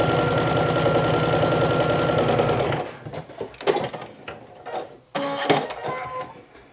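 A domestic sewing machine stitches through vinyl at a 2.5 stitch length, running as a steady, loud whirring drone for under three seconds before it stops and leaves scattered handling clicks and taps.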